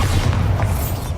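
A Bombarda explosion spell goes off in Hogwarts Legacy, one loud, deep, rumbling boom filling the whole brief moment.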